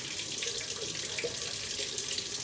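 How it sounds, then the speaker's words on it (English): Cold tap water runs steadily from a faucet onto a hand held under the stream, a soft, even splashing hiss that stays constant throughout with no talking. "I can still feel the sensation as the water's hitting my hand"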